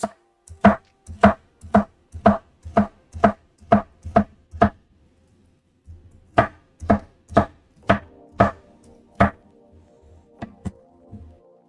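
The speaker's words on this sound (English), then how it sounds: "You want a nice, wide, diagonal cut for this." A knife cuts vegetables diagonally for stir fry on a board, sounding as crisp, evenly spaced chops in two runs of about a dozen and eight, with a short pause between them and faint clatter at the end.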